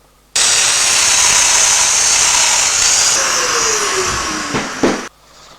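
A power domino joiner spins up and cuts a slot in wood, a loud continuous high whine that holds steady for several seconds, dips in pitch as it bites, then winds down to quiet.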